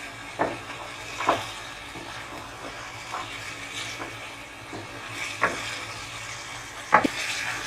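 Spiced tomato masala for mutton achar gosht fries and sizzles in a pan, with a soft continuous hiss broken by several sharp scraping stirs of a spoon, close and alone without talk.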